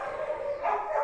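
A dog barks or yelps in a brief burst, close and fairly clear, a short tonal bark with no talk over it.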